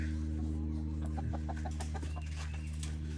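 Several chickens cluck in short, scattered bursts over a steady low mechanical hum, fairly close and moderately loud.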